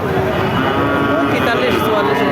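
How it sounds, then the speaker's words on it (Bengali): A cow at a cattle market moos loudly and close by, a long drawn-out low call mixed with people talking nearby. "কুরাস জাতের গরু আপনারা দেখতে পাচ্ছেন"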